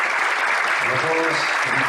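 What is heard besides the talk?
audience applause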